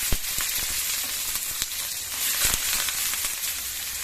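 Green chillies, onions and curry leaves fry in hot oil, giving a steady close sizzle with crackling pops and a few sharp spits, no voices.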